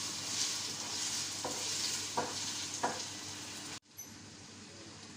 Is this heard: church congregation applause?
no